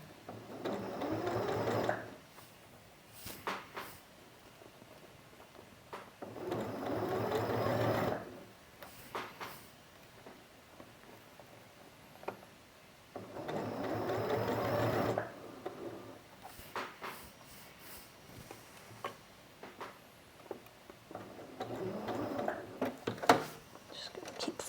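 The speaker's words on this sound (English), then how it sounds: "given that I'm sewing 2 different sized curves together" A domestic sewing machine stitching two differently sized curves together along a shoulder seam, with several steady whirring runs separated by pauses and soft handling noises while a person talks quietly in between.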